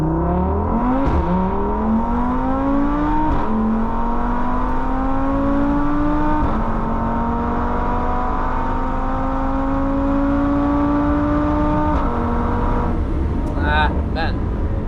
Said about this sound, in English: So let's hear it out for the Daza engine.